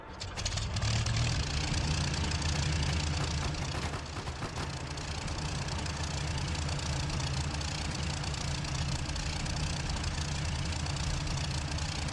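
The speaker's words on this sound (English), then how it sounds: "now we can go back in the cockpit and start the engine" An IL-2 Sturmovik 1943 aircraft engine starts and settles into a steady idle in a flight simulator, a loud, dense, rough rumble with a brief surge early on, then holding constant throughout without any voices.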